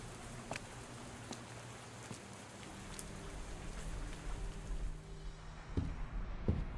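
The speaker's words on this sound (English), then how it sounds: "It's freaking raining." Rain falls steadily outdoors as a soft, constant wash of patter with a few sharper drops striking nearby surfaces, fairly faint and without talk.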